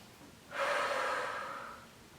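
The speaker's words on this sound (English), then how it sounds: "Take a breath." A single deep breath in during an evening bedtime AeroPilates stretching workout, a breathy rush that swells quickly and fades over about a second and a half, close and clear with no talking.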